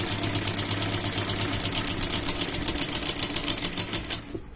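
A sewing machine stitches pin tucks into blouse fabric in a fast, even mechanical rattle of rapid needle strokes, running close and steady for about four seconds before stopping abruptly.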